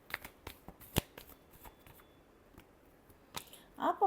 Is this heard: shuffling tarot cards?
yes